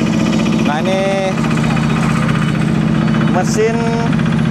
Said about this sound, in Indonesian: mesin aspal finisher sudah mulai bergerak ke arah sisi sebelah barat